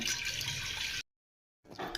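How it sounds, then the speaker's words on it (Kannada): Water poured into a bowl while golgappa pani is being made, a close, steady splashing stream for about a second. It stops briefly and then resumes. "ಸ್ವಲ್ಪ ಪಾನಿ ರೆಡಿ ಮಾಡ್ತಾ ಇದ್ದೀವಿ ಸ್ವಲ್ಪ ನೀರು"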